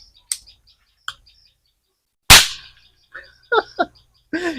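Diwali toy gun popping pop-up caps, a few sharp cracks spaced apart, one much louder than the others, with short chirpy squeaks and a brief voice between shots.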